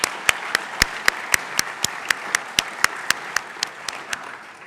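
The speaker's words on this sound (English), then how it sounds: "Let's clap for that." A small audience at an academy assembly claps, but the applause thins to a slow, steady series of single sharp claps, about one every quarter second, close by and fairly clear.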